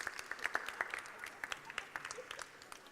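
A live audience at a literary festival at the British Library applauds after a magic trick: a scattered, moderately distant clapping that stays fairly even throughout.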